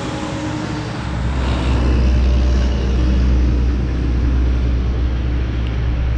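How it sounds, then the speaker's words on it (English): A loud semi truck rumbles past close by, a heavy low engine roar that swells after the first second and holds steady throughout, with no talking. "we got another loud semi driving by"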